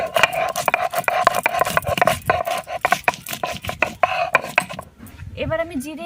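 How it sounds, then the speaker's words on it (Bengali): Garam masala spices are ground by hand on a grinding stone, giving repeated rough scraping and rubbing strokes in an uneven rhythm, loud and close, with a brief pause near the end. "প্রথমে আমি গরম মশলা বেটে নেব।"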